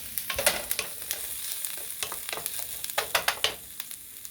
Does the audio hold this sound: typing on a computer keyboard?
no